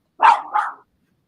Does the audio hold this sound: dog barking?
yes